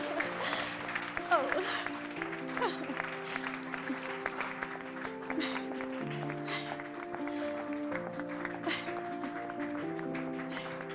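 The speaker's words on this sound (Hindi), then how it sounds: "इन तालियों के लिए बहुत बहुत शुक्रिया" Applause from an audience as a teacher is called onto a stage in a dubbed Thai drama; scattered clapping continues under a bright musical score and a voice.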